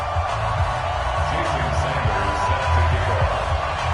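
A steady, dense stadium crowd roar fills an EA Sports NFL video game before a Washington Redskins versus Oakland Raiders matchup, a continuous wash of noise with no distinct peaks.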